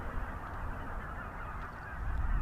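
A big flock of geese honks continuously outdoors, a dense chorus of overlapping calls at moderate distance with steady low wind or water rumble underneath.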